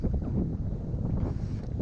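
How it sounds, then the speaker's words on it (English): Icy wind blowing across a mountain trail near a summit, a loud continuous rumbling buffet against the microphone with no speech. "Oh, that icy wind."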